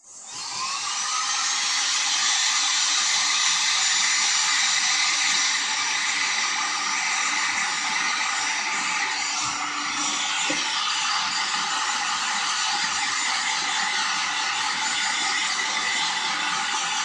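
A hair dryer blows a loud, steady hiss for a long stretch, drying a decorated glass jar, starting abruptly and running continuously with no talking.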